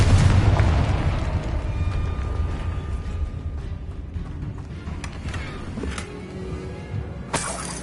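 Fiery Confringo spell blasts in Hogwarts Legacy on PS5 burst with a loud boom and shattering crackle, rumbling continuously through the whole stretch with another sharp burst near the end, with no talking.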